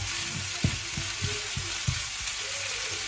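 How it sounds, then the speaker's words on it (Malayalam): Ginger frying in hot oil for Kerala-style injippuli, stirred steadily until brown: a constant close sizzle broken by regular soft scraping strokes about every third of a second. "അപ്പോൾ അത്യാവശ്യം ഇത് നല്ല ബ്രൗൺ കളർ ആവുന്നവരെ നമുക്കൊന്ന് ഇളക്കി കൊടുക്കാം."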